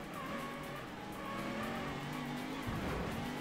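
Racing car engine in the Ford Racing video game, a steady droning whine that climbs and dips in pitch with gear changes, with a faint tire squeal, fairly quiet and without speech.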